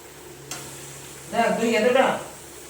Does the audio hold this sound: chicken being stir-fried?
yes